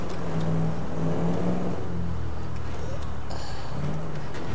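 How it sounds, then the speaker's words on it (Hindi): A car engine in GTA 5 drones and revs steadily under reckless, dangerous driving, pitch rising and falling with a constant road roar while a voice talks over it. "फ्रैंकलिन बहुत ही डेंजरस ड्राइविंग कर रहा है"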